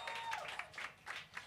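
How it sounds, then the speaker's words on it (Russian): Applause from an audience honoring a team member named Misha, a faint, steady wash of clapping with periodic swells, heard at a distance with no voices over it. "И эти аплодисменты еще раз тебе"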